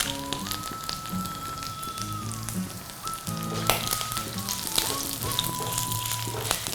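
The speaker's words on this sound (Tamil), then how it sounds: "வேணுங்கிற இன்க்ரீடியன்ட்ஸை நான் வந்து ஃப்ரை பண்ணிக்கிறேன்" Fenugreek, coriander and dried chilies frying in a pan over moderate heat, giving a close crackling sizzle with scattered pops, while a voice speaks intermittently over it.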